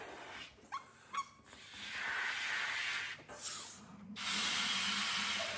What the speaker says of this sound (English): Now it's time to blow up balloons.